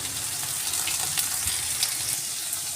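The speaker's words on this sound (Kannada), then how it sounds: "ಸಾಸಿವೆ ಸಿಡಿತಾ ಇದೆ. ಸೊ ಇವಾಗ ನಾನು ಹಚ್ಕೊಂಡಿರೋ ಈರುಳ್ಳಿ, ಒಣ ಮೆಣಸಿನ್ಕಾಯಿ, ಕರಿಬೇವು ಇಷ್ಟು ಹಾಕ್ತಿದ್ದೀನಿ" Chopped onion, dry red chilli and curry leaves frying in oil with popping mustard seeds, a loud close continuous sizzle and crackle with scattered small pops throughout.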